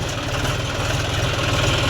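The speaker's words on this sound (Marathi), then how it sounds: "त्याच्या मागे ट्रॅक्टर येऊन उभं राहायला लागलं" A tractor idles steadily nearby on a farm, its low engine note pulsing in an even, continuous rhythm with no voices over it.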